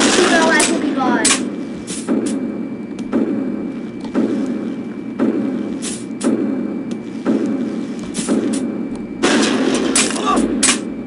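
Repeated sharp gunshots at steady intervals in the video game Happy Wheels, a Segway death match, each bang crisp and loud over a constant game background.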